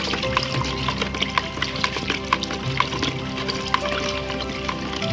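A liquid mixture with oil and salt being stirred, close wet swishing and sloshing with light clinks and drips throughout and no talk.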